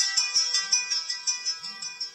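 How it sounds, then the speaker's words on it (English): Kospet Tank X2 Ultra smartwatch find-watch alert plays a bright, repeating electronic chime in quick pulses, fairly loud and close, with faint low thumps of vibration underneath. "Also find the watch, it will make a loud sound and vibrate."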